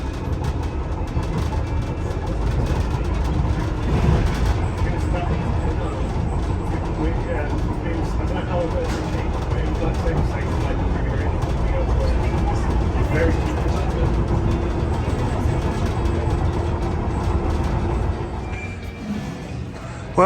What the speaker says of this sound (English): This train is from Tower Gateway.